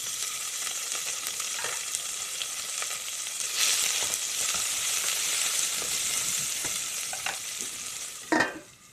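Onions sizzle in a hot pan for chicken biryani, a steady, close frying hiss with occasional stirring scrapes and a sharper clatter near the end, and no talking.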